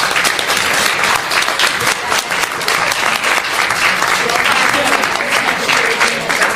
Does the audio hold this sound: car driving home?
no